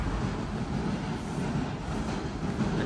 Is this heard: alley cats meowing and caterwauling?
no